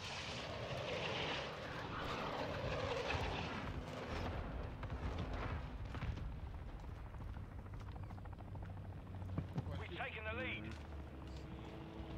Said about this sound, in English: A cargo helo has entered the airspace.